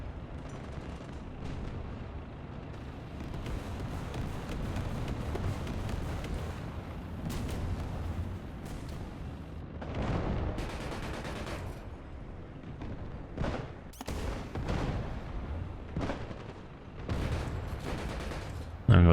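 A BMP-2M autocannon in War Thunder fires at an Israeli Merkava tank: dense, continuous bursts of heavy gunfire and booming impacts, with loud shots near the end, under steady battle noise.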